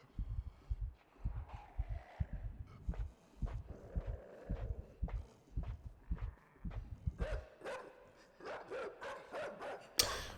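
A dog barks in Inside, a run of deep, repeated barks and thumps in an uneven rhythm, near and fairly loud, followed by brighter, scattered sounds near the end.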